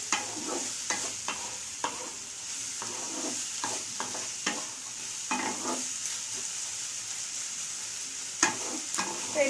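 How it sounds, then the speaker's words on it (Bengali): Egg chicken roll filling with ground pepper stirred in a hot pan: soft sizzling beneath a run of distinct spatula scrapes and taps, roughly a dozen close strokes at an uneven pace. "এটাকে আমি এইভাবে নেড়ে চেড়ে নামিয়ে নেব"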